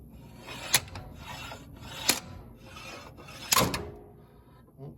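Three sharp metallic impacts from a slide hammer pulling a shaft during a Toyota 4Runner neutral safety switch replacement, spaced about a second and a half apart, with scraping and rubbing between them, close by.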